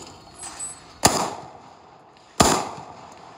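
A Franchi Affinity 3 semi-automatic shotgun fires two loud, sharp reports about 1.4 seconds apart, each followed by a brief echoing decay outdoors.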